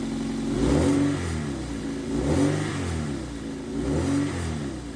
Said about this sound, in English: So let's give this car a start and let's see if we can hear anything.